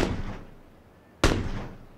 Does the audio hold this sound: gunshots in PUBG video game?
yes